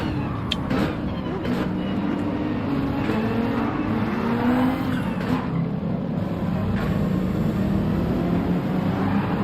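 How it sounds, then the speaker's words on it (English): A race car engine in the Gran Turismo 7 video game screams at the rev limiter, a loud, continuous buzzing drone that holds steady throughout. "I hit the rev limiter already"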